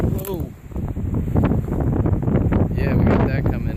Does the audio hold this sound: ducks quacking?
no